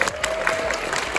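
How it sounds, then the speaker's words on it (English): Audience applause at a Chainsaw Man cast convention panel, a steady wash of clapping and some cheering from a crowd that fills the whole moment. "Give a round of applause for being the first question."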